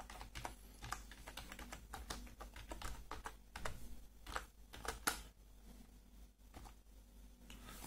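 Quiet, steady typing on a computer keyboard, with rapid irregular key clicks running throughout at close range and no voices.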